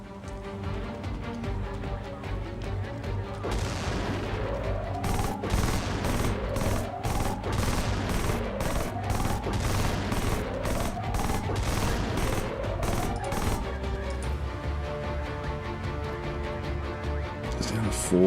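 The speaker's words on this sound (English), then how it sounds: "So it's going to get a few shots in on us." Gunfire in the Xenonauts 2 strategy game, a series of rapid burst volleys repeating at regular intervals with rising whooshing sweeps, over a constant background hum.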